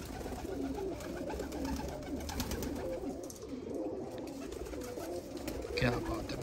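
A female flying pigeon, about four years a flier, coos softly and repeatedly close by, with low murmuring calls under a voice and steady background noise.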